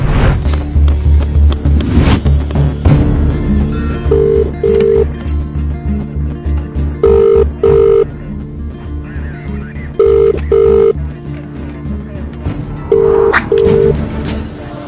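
A telephone in a Telugu comedy film scene is dialed, with quick paired tones in short bursts, followed by repeated ringing pulses at steady intervals, heard over a low background hum.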